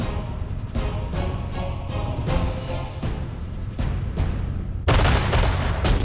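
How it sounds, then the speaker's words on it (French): A Soviet artillery and Katyusha rocket barrage at Stalingrad rumbles as dense, continuous booming and overlapping blasts, loud and sustained, with a harsher burst of noise near the end. "3000 canons et orgues de Staline écrasent les lignes ennemies."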